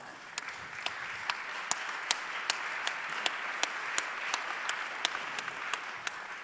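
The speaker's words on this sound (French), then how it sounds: "Je crois qu'on peut les applaudir" Steady applause from an audience at a conference round-table colloquium, moderate and even throughout, with a few sharper individual claps standing out above the crowd.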